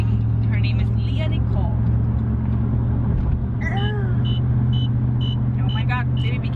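Street traffic with a steady low rumble of car engines, horns and brakes squealing here and there, while people talk nearby.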